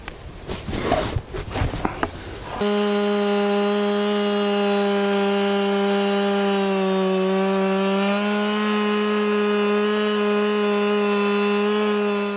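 Brief rough scraping and rustling, then a chainsaw engine roars in a loud, sustained drone while plunge cutting a log, holding steady with a slight dip in pitch partway through.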